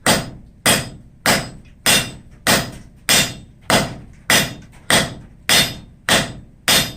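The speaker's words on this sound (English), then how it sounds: "I'm just going to draw a little taper on the end of it, just to reduce it." A hammer forges a taper on the end of a piece of hot steel, striking twelve loud, evenly spaced ringing blows at a steady rhythm with no talk between them.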